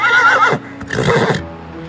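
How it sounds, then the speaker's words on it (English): A horse lets out a loud, close whinny that wavers in pitch for about half a second, then breaks into a rough, breathy snort and exhale. "A horse, of course."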